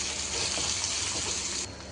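Ginger garlic paste hitting hot oil, a loud, bright continuous sizzle that eases slightly near the end, with a brief clink at the close.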